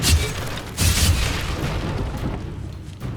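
The Incendio fire spell in Hogwarts Legacy goes off as a loud, close whooshing blast, followed by a second burst and a rumbling decay under ongoing combat sounds.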